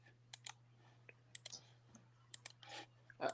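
Keyboard typing, soft scattered key clicks in irregular bursts over a low steady hum, fairly quiet, with faint breathy noises between taps.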